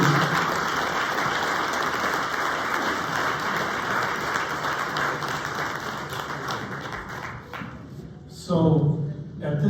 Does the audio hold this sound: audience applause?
yes